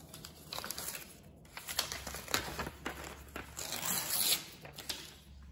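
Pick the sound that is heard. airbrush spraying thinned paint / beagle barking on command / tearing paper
tearing paper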